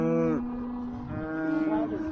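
Cows mooing on a farm in the Czech Republic: a long, loud, close low moo with a second drawn-out call following, set against faint outdoor background noise, with no talking.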